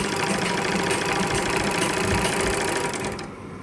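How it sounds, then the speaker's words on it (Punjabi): An interlock sewing machine runs steadily at close range with a loud, dense mechanical whir and rapid stitching rattle, then winds down in the final moments. No one talks. "ਦੇਖੋ ਜੀ ਮਸ਼ੀਨ ਨੇ ਫੇਰ ਧਾਗਾ ਤੋੜਤਾ"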